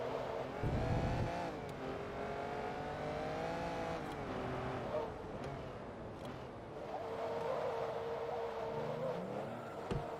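Race car driven in the video game Forza Motorsport 2, its engine droning and revving steadily with shifting pitch as the car accelerates, loud and continuous without talk.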